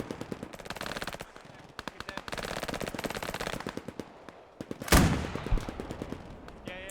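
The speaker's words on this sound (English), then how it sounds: "The PTRD tank rifle shooting at the half track here." Rapid volleys of gunfire from a World War II video game battle, including PTRD anti-tank rifle shots at a half-track, crack in dense bursts alongside machine-gun fire, with a heavy louder blast near the end.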